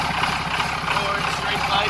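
A Cummins 24-valve diesel with a P-pump and straight-pipe exhaust idles close by, a steady low rumble with a rough rhythmic chug running throughout.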